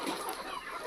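Desi country chickens at a farm give soft, faint clucking for about a second, with a brief higher call, and nobody talks.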